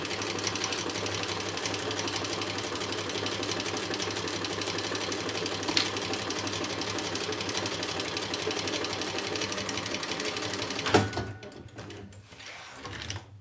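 A sewing machine bastes a pocket onto a Mysa crossbody bag, running in a steady, close mechanical whir for several seconds before stopping with a clunk near the end.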